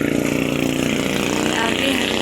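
Motorcycles passing by a school on a town street, a steady buzzing engine drone close by with a faint whining pitch, while someone talks over it.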